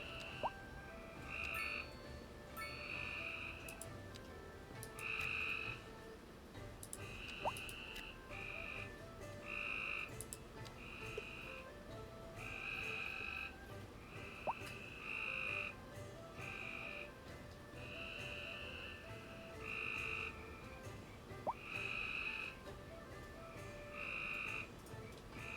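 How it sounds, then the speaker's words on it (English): Frogs croak loudly outdoors at night in a steady series of rhythmic bursts that repeat throughout, with no voices over them. "the frog's very loud outside tonight."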